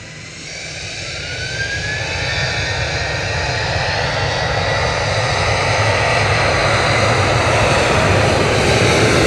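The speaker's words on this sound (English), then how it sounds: "Ryanair off to Madrid. EIDYV 737-800, flight 3187." Ryanair Boeing 737-800 jet taking off for Madrid, a loud engine roar building steadily over several seconds into a strong sustained thrust rumble, with no voices.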